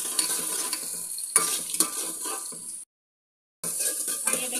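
Green peas sizzle and crackle in a hot pan for matar pulao, a steady close frying hiss with stirring scrapes, broken by a short full silence before the sizzling resumes.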